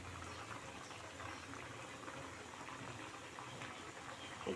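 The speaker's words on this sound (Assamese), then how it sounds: "এয়া আমাৰ তৰকাৰীখন উতল আহিব ধৰিছে।" Soya chunk and potato curry simmering in a pot, a faint, steady bubbling and hiss that runs evenly throughout with no voices.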